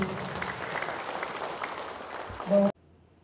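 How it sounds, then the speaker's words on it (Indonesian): Applause from a crowd marks the formal opening of a Mamta Tabi tribal gathering in West Papua, following five beats on a tifa drum. Steady, dense clapping fills the room and breaks off abruptly at the end. "Kita beri aplaus."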